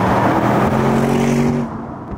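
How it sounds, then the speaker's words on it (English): A Porsche Panamera hybrid's V8 engine fires up on a light press of the accelerator, a steady close rumble for about two seconds that then drops away. "just a little click on the accelerator and the V8 comes alive."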